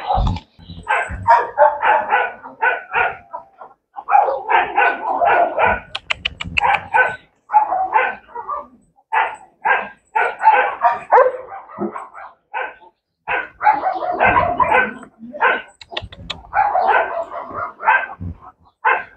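Dog on a farm barking repeatedly in short bursts of a few barks each, with brief gaps between volleys, close and loud, some yips and whimpers mixed in.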